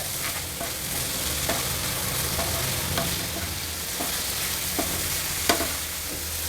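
Tomato and onion fry with salt in a pan for spot idli, giving a steady close sizzle throughout with occasional faint scrapes of a stirring utensil.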